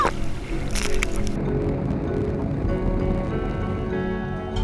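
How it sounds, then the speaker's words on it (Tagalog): Heavy rushing water and churning surf of strong ocean waves at sea, loud and continuous, with sloshing and splashing close by. "Lakas ng alon!"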